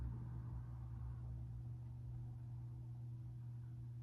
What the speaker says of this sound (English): Just as that car passes by, I can't control whether that comes by and makes sound on the video